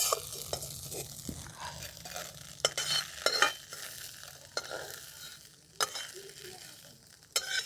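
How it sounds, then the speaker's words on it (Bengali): Egg frying in a pan for an egg and bottle gourd curry, a soft sizzle broken by repeated sharp scrapes and taps of a spatula stirring, close and fairly quiet. "দেখুন ডিমটাকে ভালো করে ভাজা হয়ে গেছে"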